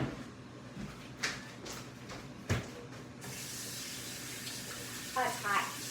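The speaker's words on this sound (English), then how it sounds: "let me wash my hands real quick." A kitchen tap runs as hands are washed, a faint close hiss of flowing water that swells partway through, with brief splashes and handling knocks.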